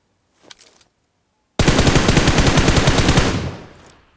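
A brief faint rattle, then a loud, sustained burst of rapid automatic gunfire in PUBG Mobile lasting about two seconds before trailing off.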